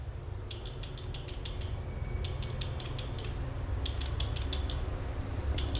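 A barber's hair clipper gives sharp, rapid metallic clicking bursts in three clusters over a low steady hum, quiet and close with no voices.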